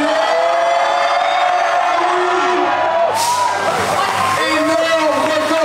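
A crowd cheers, whoops and shouts for a French national record lift at a weightlifting competition, a steady loud roar of many voices with rising yells and a commentator speaking over it.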